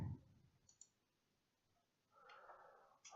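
Computer mouse clicks in Creo CAD software, a few crisp, quiet clicks near the start and again late in the clip against a near-silent background.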